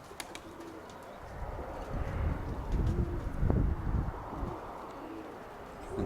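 Pigeons coo at feeding time in a loft, with faint squeaking chicks mixed into a soft, steady, close-up bed of fluttering and ambient noise.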